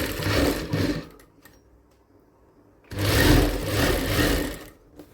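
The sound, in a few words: sewing machine stitching a blouse seam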